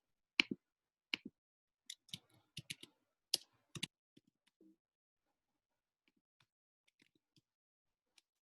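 Keys on a computer keyboard are tapped in scattered short bursts, close and fairly quiet, thinning out to occasional faint clicks.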